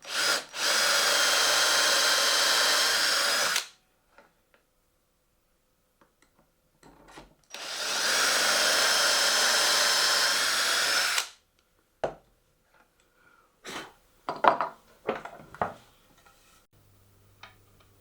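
A power drill bores dowel holes into oak boards for a fire surround, guided by a centering jig, in two loud sustained bursts separated by silence, followed by scattered knocks and handling clatter.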